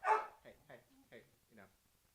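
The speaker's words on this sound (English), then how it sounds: "Right at that moment, my dog started barking because there's trick or treats" A dog barks at trick-or-treaters on Halloween, a short run of about five fairly close barks, the first loudest, then smaller ones.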